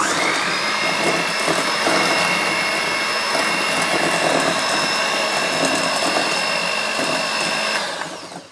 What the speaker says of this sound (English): we're adding the first egg to the butter and sugar mixture, and we're going to mix this in.